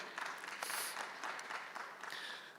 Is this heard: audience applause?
yes